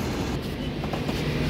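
The Howrah Amritsar Mail train rumbles steadily at the platform, a dense, continuous roar of rail noise close by.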